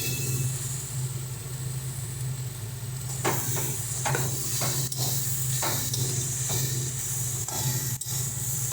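Tomatoes hit a hot pan of eggplant curry with shrimp, bringing a steady loud sizzle and hiss with bursts of crackling spatter, over a constant low hum from a nearby kitchen fan or burner.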